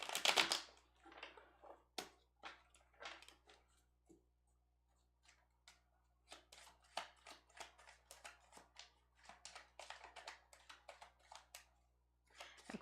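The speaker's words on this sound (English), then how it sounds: "One more shuffle. I heard one more shuffle." A deck of cards is shuffled during a zodiac reading, giving quiet bursts of rapid, crisp clicking and riffling with short pauses between shuffles, close up and alone without talk.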